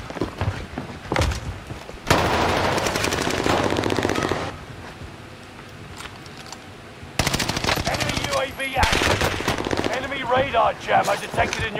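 Bursts of automatic gunfire in the shooter game Call of Duty Warzone, fired with FARA 83 and Macro 5 rifles, come in loud sustained volleys with short pauses between them, alongside thuds and impacts.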